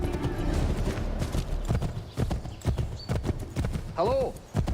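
Horse hooves clip-clopping at a gallop in Assassin's Creed 3 Remastered, with a clear whinny near the end, running steadily under game music and voices.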